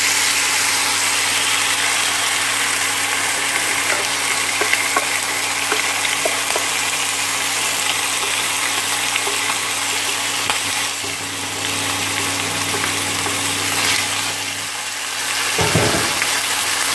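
Steady sizzling and crackling of marinated chicken stir-frying in a hot pan with lemongrass and chili, continuous and close, with a low hum underneath and a brief clatter near the end.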